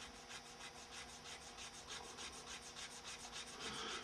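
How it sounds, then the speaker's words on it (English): Steady back-and-forth sanding of a kit-bashed model vent part, about a dozen rhythmic rubbing strokes close to the microphone, with no talk. "That one probably could use a little more sanding right there."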